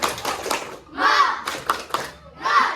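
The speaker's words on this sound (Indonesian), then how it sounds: "marilah kita tepuk semangat dulu ya" A sixth-grade class performs a rhythmic clapping chant, bursts of children's voices calling out in unison alternating with sharp hand claps, close and lively, in short repeated phrases.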